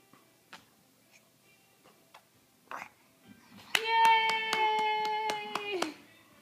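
A baby's few soft, uneven hand claps are followed by a quicker run of steady claps while a voice holds a sustained tone over them.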